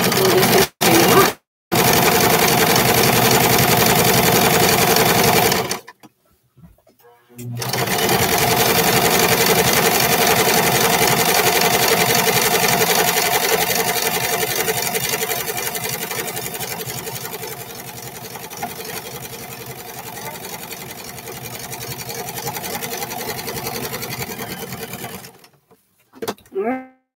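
Sewing machine stitching fabric pieces for a pair of shorts, a loud, close, steady mechanical whir running in long bursts with short pauses between seams.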